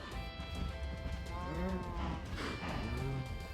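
Cows mooing in a farming video game, a couple of drawn-out low moos close by over a busy background of ambient game sounds and music.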